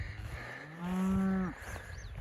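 A single drawn-out cow moo rises clearly over steady outdoor background noise in a grazing pasture on a Kentucky farm, lasting under a second and fading off at the end.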